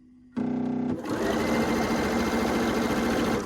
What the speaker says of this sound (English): So very simply, we'll sew them.